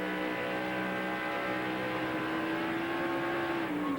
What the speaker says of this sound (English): You could hear the RPMs that really get up there as the back started around on Benson's car